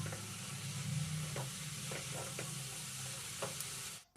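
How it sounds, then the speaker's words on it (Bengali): Fried shrimp stirred into radish curry in a pan, giving a steady close sizzle with a few soft scraping stirs and spoon knocks throughout. "দিয়ে দিলাম ভাজা চিংড়ি মাছটা ভাজা চিংড়ি মাছটা দিয়ে মিশিয়ে নিচ্ছি মূলোর সাথে"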